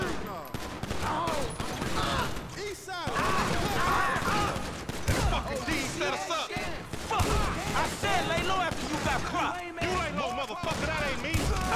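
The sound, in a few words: shotgun gunfire in GTA 5 video game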